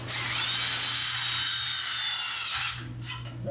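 A power drill drives tech screws into a light fixture during a T12 to T8 fluorescent retrofit. It gives a loud, steady whir for about two and a half seconds, then stops, followed by a couple of short, fainter bursts.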